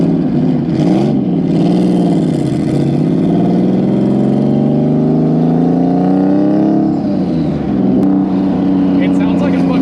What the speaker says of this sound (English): It legit sounds like a turbo Harley.